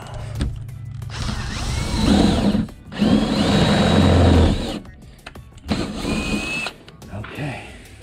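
A power drill driving screws while mounting a solar panel bracket on a trailer roof, several whining bursts of a few seconds each, separated by short pauses, close and fairly loud.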